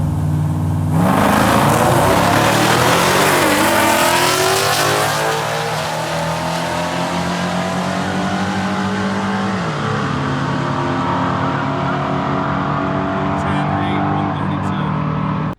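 A car engine revs hard and loud through a test pass after a clutch repair, with rising and falling pitch as it accelerates through gear changes, with tire noise, close and continuous throughout.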